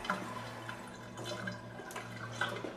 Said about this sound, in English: Machine goes to red, flushing itself out.